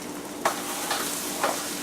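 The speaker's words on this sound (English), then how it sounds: "starting to get that nice sizzle going" Steady close sizzle of butter frying in a pan, broken by three soft scraping stirs at roughly even intervals.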